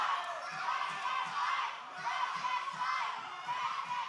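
A wrestling crowd at an OVW live event chanting in rhythm, a dense roar of many voices rising and falling in repeated beats, steady and fairly loud across the arena.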